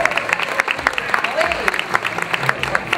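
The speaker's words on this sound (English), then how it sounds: "Let's give a nice round of applause for our volunteer." Audience applause at an exotic bird show in a theme park, scattered clapping with short bursts, mid-distance, while voices talk over it throughout.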